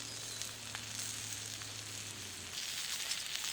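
Tomahawk steak, about two pounds, searing on a hot rock over an open fire, giving a steady faint sizzle with soft crackle that grows a bit louder toward the end, no talking.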